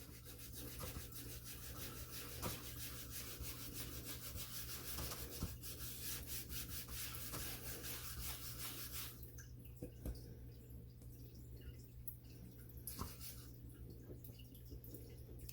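Old vinyl residue is scraped off a Cricut cutting mat in repeated quiet rubbing strokes close by. Halfway through, a steady hum runs underneath and the scraping thins out.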